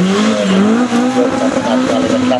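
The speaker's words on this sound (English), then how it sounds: "So now we've got two Porsches out on the track" A Porsche 911 SC races on a track, its engine close and loud in a continuous, slightly wavering drone throughout.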